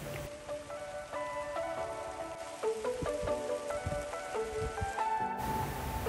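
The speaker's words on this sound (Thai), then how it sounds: "ก็เหมือนฝนจะตกซะแล้วเราเลยต้องกลับกันซะก่อน" Steady rain patters on surfaces in the mountains of Chiang Mai, with scattered louder drips and taps, continuous and close, with no voices.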